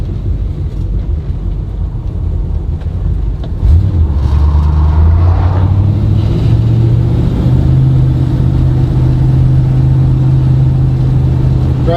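A 1964 Chevy Nova SS engine drones steadily while driving, a loud low rumble that deepens and grows as the car picks up speed partway through, with no talk over it.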